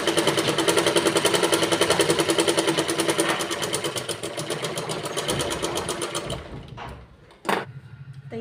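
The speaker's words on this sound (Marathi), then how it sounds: "आपल्याला इथे या स्टक्सला शिलाई टाकून घ्यायची आहे" A sewing machine runs steadily while stitching a tuck on a blouse, a fast even whirring rattle for several seconds that slows and stops, followed by a couple of brief handling knocks.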